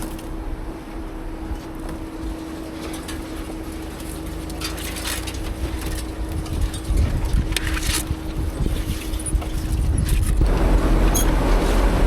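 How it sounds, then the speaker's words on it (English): Off-road vehicle pushing through bushes on an overgrown remote trail, with a steady engine drone, wind buffeting the microphone and brushy scraping that swells louder toward the end. "I feel like I'm just driving over bushes"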